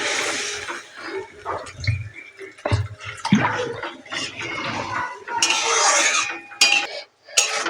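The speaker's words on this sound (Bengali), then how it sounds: "আমি এবার একটু অল্প করে জল দিয়ে দেব।" Water pours and splashes into a pan of fish curry masala amid clattering of a metal spoon and pot, with bursts of rushing pour and stirring clinks close by.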